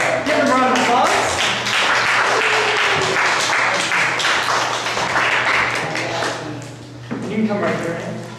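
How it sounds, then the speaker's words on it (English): Audience applause as volunteers come up on stage at an improv comedy show, loud sustained clapping from a crowd that fades near the end as a voice starts talking. "Give them a round of applause."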